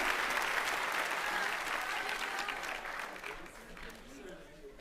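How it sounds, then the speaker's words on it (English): A commencement crowd at Cushing Academy applauds award winners, a steady wash of many hands clapping that gradually fades a little toward the end. "Let's give another round of applause for Dorothy and Jacob"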